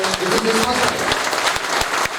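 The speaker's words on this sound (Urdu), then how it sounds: "آپ تمام سیالکوٹ کے باسیوں سے گزارش ہے کہ کھڑے ہو کے ڈاکٹر صاحب کے لیے زوردار تالیاں بجائیں" A standing audience at an annual conference in Sialkot claps loudly and continuously for a visiting doctor, a dense wash of applause with crowd noise and a voice speaking over it.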